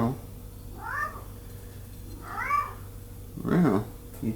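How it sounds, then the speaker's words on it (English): A cat meows three times indoors, the drawn-out cries clear and fairly close, the last one the loudest, against a quiet background. "Meow."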